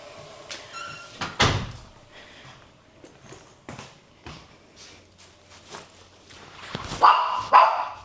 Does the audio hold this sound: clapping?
no